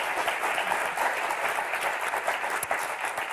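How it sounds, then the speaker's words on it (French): Studio audience on a French television word game show applauds two winning contestants with dense, continuous clapping that stays loud and even throughout. "J'aimerais qu'on les applaudisse encore"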